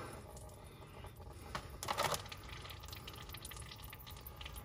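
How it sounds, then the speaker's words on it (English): Engine oil drains from a 2021 Ford Power Stroke diesel truck during its first oil change, a steady, faint trickle of liquid falling into a pan, with a brief louder splash near the middle. "So we'll let that drain down now for a little while."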